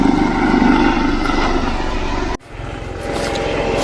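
A helicopter carrying a state chief minister arrives to land near a village, its rotor and engine a steady loud roar that cuts out abruptly midway, then resumes as a softer, distant drone.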